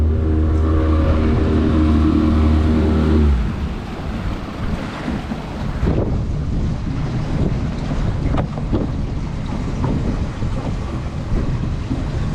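A repowered 20-foot Custom Weld boat's outboard engine drops from a loud steady drone to a lower idle after about three seconds, leaving rushing wind and water noise on the microphone.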